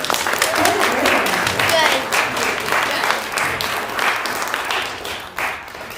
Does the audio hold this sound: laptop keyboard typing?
no